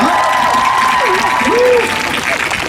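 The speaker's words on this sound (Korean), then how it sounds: "이분께 다시 한 번 큰 박수 부탁드리겠습니다" Dense audience applause at a live concert by a vocal group, a steady wash of clapping with some crowd noise and a voice briefly audible over it, continuing throughout.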